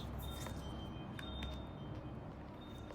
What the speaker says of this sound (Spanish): Vamos a barajar un poquito más y ya arrancamos.